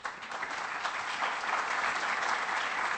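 A theatre audience applauds steadily and densely for a young girl, the clapping sustained and fairly loud throughout without pause.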